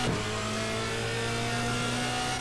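Porsche race car engine in a sim racing game, a steady loud mid-pitched drone holding high revs throughout with a faint rise in tone, close and alone with no talk.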